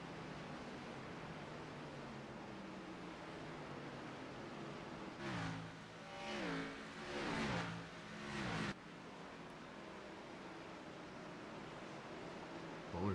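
Xfinity Series stock cars racing at Richmond, a steady engine roar with a burst of several cars passing close in the middle, their pitch sweeping as they go by, then settling back to a distant drone.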